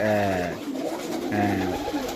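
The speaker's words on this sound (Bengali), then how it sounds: "সব জাতের কবুতরও এই খামারে আছে সুন্দর সুন্দর কবুতর" Pigeons at a pigeon farm in Bangladesh coo in two close, deep, droning bursts separated by a short pause, with soft background bird rustle and no talking.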